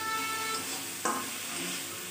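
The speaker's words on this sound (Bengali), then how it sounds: "লবণ দিয়ে একটু নেড়ে চেড়ে নেব।" Food seasoned with salt, soy sauce and tomato sauce sizzles softly in a pan as a spoon gives one sharp scrape near the middle, close and quiet, with no voices.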